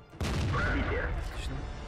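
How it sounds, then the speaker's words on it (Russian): A tank cannon fires in the video game World of Tanks, giving one loud, close, booming blast that fills the low end and rumbles on for over a second. "Подождите, пока орудие перезарядится, чтобы выстрелить снова."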